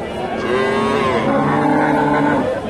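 A single long, low moo from a large dairy cow close by at a cattle market in Bogura, drawn out for a couple of seconds over a busy outdoor background.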